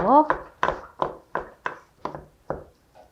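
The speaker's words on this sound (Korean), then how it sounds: "새송이를 곱게 다져주세요." A knife finely minces king oyster mushroom on a cutting board in a Korean home kitchen, about eight crisp, evenly spaced chops, close and clear, with a brief voice at the start.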